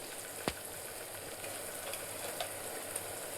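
Masala frying in oil for a home-cooked potato curry, a steady soft sizzle with a few faint utensil scrapes, no talking.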